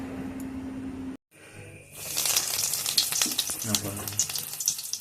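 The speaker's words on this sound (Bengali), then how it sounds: "গরম তেলে এবার আমি একটা একটা করে ছেড়ে দেবো। এবার এটাকে লাল লাল করে ভেজে নেব।" Lote fish chops dropped into hot oil set off a rising, crackling sizzle after a brief quiet gap, growing loud and bubbly with popping spatter.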